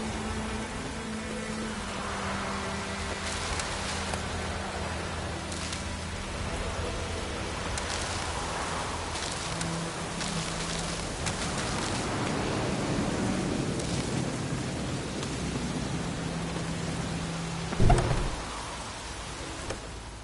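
Steady rainfall in the video game Witcher III hisses throughout, with a low rumble of thunder near the end and quiet background tones underneath.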